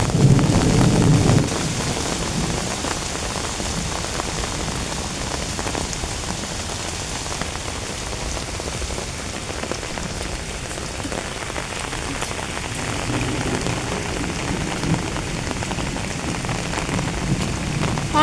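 Steady, heavy rain pours through a lychee orchard in a continuous close wash of drumming drops, with no voices and a slightly rougher patch near the start.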